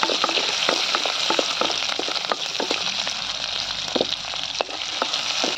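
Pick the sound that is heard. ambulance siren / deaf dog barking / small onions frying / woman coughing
small onions frying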